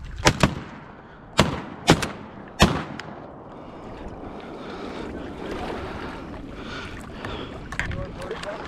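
Shotgun blasts fired at a mallard drake while duck hunting on big open public water, several sharp loud reports in quick succession, followed by a low wash of wind and water with a voice speaking.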